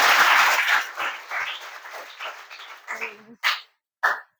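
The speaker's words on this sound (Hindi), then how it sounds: "तो एक बार जोरदार तालियों से स्वागत किया जाए" An audience applauds to welcome a newly appointed district minority officer, clapping loudly at first, then thinning into scattered claps with a voice mixed in, before stopping with a couple of brief sounds at the end.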